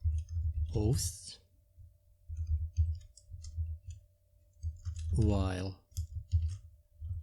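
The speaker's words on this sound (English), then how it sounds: "I'll start typing" Soft, rapid clicking of computer keyboard keys while code is typed during a WordPress tutorial, in short irregular bursts under a voice.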